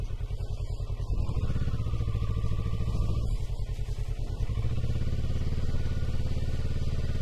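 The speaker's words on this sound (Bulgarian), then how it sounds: "Това е високото моторче." A tall small motorcycle rides along at a steady engine drone with continuous rumble and wind, loud and close throughout, with no talk.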